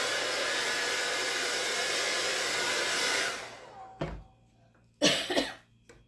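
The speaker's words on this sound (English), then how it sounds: "Use my blow dryer on it like I did the last one to get the little wet spots out of" A blow dryer roars steadily for about three seconds while drying a chalk transfer on a magazine holder, then switches off, followed by a couple of brief coughs or throat-clearing sounds in the quiet afterward.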